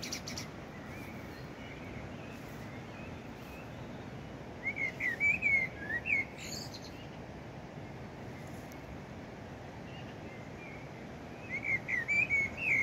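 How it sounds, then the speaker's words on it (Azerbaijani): Birds singing outdoors in a garden, bright chirping phrases rising in short bursts over a steady broadband background hiss, moderately distant. "Aşağı tərəfdə də quşların səsi gəlirdi."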